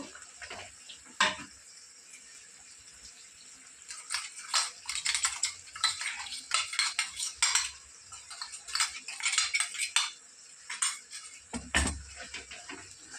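Chicken curry with fenugreek leaves being stirred in a pan after spice powder goes in, with scattered clinks and scrapes of a spoon against the metal, uneven bursts over a quiet background and one heavier knock near the end.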